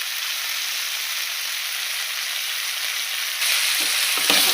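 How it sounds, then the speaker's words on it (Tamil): Onion and tomato fry in a pan for a tamarind curry, making a continuous close sizzle that grows louder toward the end, with a few stirring scrapes. "தக்காளி நல்லா வதக்கிடணும். தக்காளியே தெரியக்கூடாது."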